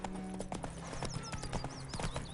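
Roach, a horse in The Witcher 3: Wild Hunt, trotting with rhythmic hoof clip-clops, steady and fairly close, mixed with game ambience and birdsong, with no voices over it.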